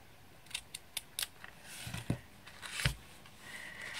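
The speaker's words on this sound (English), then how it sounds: "trim that bit of ribbon so that they're both the same." Scissors trimming ribbon on a coffee gift envelope, a quiet series of short close snips followed by faint rustling and handling of paper.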